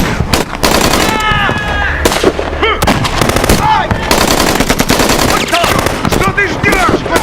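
Bursts of machine-gun fire crack through a 1959 black-and-white haunted-house horror film, loud and rapid over a dense, chaotic mix of shouting and swelling music.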